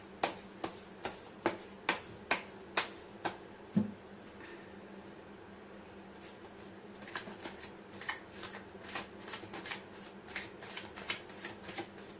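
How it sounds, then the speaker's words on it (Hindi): Tarot cards being shuffled by hand, first in a string of crisp evenly spaced riffles, then a pause, then a quicker run of softer slapping shuffles, close and clear without speech. "मैं कर लेती हूँ कार्ड की शफलिंग"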